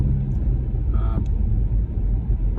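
A car on a test drive after repairs, driven along bumpy side roads in snow, makes a steady, loud low rumble from the cabin with a brief knock partway through and no voices.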